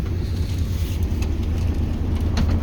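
Steady low diesel rumble from a TU6A narrow-gauge locomotive running in winter, a continuous close drone with a few faint clanks and no talk.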